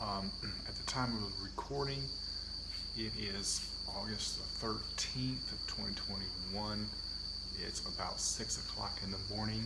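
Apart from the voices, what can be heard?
crickets and birds chirping at dawn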